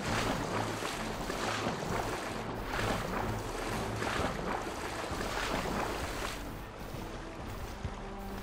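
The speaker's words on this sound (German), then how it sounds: "das ist jetzt hier der Wasserfall" Waterfall in the fantasy role-playing game Divinity 2 gives off a loud, steady roar of rushing water with broadband wash and low rumble, continuous throughout with no talking.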